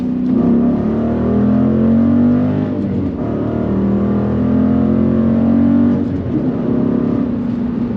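The V8 engine of a 2012 Dodge Challenger SRT8 392 with a six-speed manual roars steadily near its 6,200 RPM redline, a deep rumbling drone with slight dips, close and loud.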